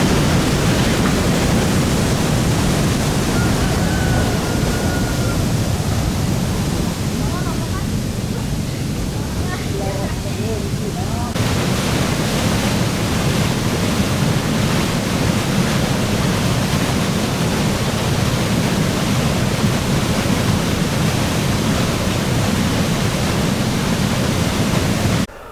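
Foamy water rushes steadily near a waterfall on an outdoor adventure trail, a dense continuous roar filling the whole stretch with a brief change in texture midway, while voices talk faintly in the background.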